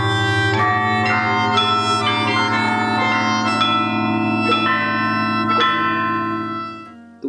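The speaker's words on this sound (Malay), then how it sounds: "Pianzong terdiri daripada satu set loceng gangsa yang dimainkan secara melodi." Pianzhong bronze bells, a traditional Chinese instrument struck with a wooden mallet, ring out a slow melody, struck notes blooming and sustaining over a steady humming drone, loud and close, fading near the end.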